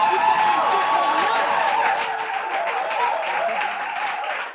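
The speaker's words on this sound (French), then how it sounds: "Je veux des applaudissements à la dimension de la finale" Applause from a studio audience at a Bible quiz final, dense clapping that runs throughout and fades a little toward the end, with chatter and a voice mixed in.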